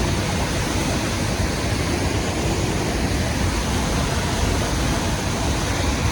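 Fast water rushes through a large, wide canal, a dense, steady roar of broadband noise that stays constant and fairly close throughout, with no voices.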